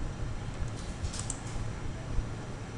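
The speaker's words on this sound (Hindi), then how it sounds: "अपने कीबोर्ड से F8 बटन प्रेस करिए सेल्स वाउचर के लिए" Computer keyboard keys pressed in quick succession during accounting-software data entry, soft clicky taps spread across the short stretch, fairly close and moderately loud with no talk.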